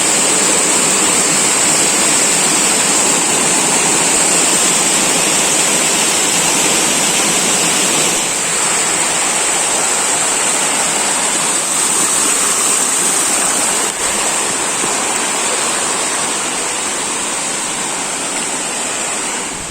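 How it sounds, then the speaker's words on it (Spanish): A waterfall in an unofficial natural area of a park roars as a loud, steady rush of falling water that holds unbroken throughout, with no voices. "Eso pareciera ser bastante caída de agua."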